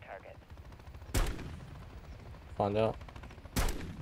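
Shotgun blasts from the Call of Duty MW3 campaign, three heavy, loud shots spaced about a second apart amid game noise, with a short spoken line in between.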